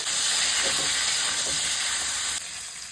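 Potato, radish, carrot and beans frying in a pan with salt and turmeric, a loud continuous hiss and sizzle close by that eases slightly near the end, ending with a short clatter.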